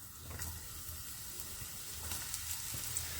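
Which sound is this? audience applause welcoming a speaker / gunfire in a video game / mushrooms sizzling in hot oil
mushrooms sizzling in hot oil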